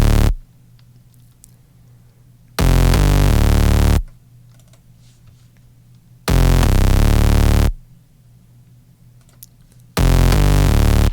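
A dry synth bass built in Harmor, with no effects, plays three loud sustained notes separated by gaps of near silence, each starting abruptly with a buzzy, harmonically rich tone.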